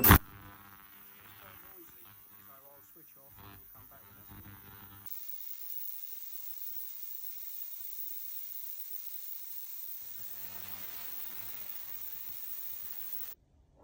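An ultrasonic cleaner runs with wheels soaking in dish soap, giving a steady, thin electrical whine and hum that holds for several seconds and then cuts off abruptly.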